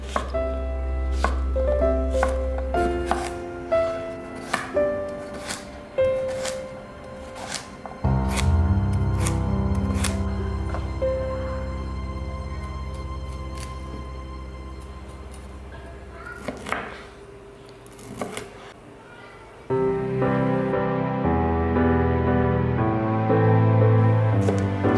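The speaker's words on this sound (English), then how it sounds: "We can do the chopping while the curry is cooking." A knife chops vegetables on a board with quick rapid strokes, close and distinct, and soft music and a few louder knocks run underneath across the whole stretch.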